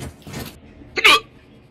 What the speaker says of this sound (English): I saw that hiccup, dude.